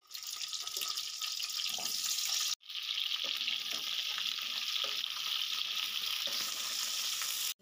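Okra frying in mustard oil, a dense continuous close-up sizzle that holds steady, with a brief cut partway through, and no voices.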